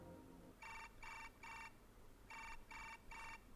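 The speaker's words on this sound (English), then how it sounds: "Suddenly I heard the sound of a ringing phone." Smartphone ringtone in the Chaos;Child video game: six bright electronic ring bursts in two groups of three, evenly paced with brief gaps, clear over a low hum and no speech.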